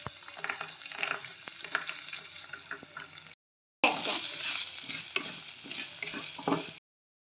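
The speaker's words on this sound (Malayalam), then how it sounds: "നന്നായിട്ട് ബ്രൗൺ കളർ ആവുന്നത് വരെ വഴറ്റണം" Chopped shallots sauté in a pan for a homestyle tuna fish curry, giving a close, continuous sizzle with scraping stirs, broken by a short silent gap before the frying resumes.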